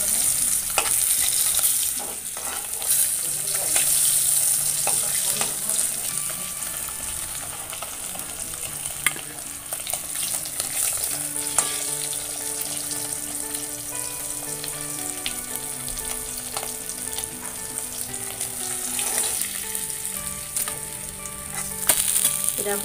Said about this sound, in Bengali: দেখো, মাছগুলো আমার লাল করে ভেজে নেওয়া হয়ে গেছে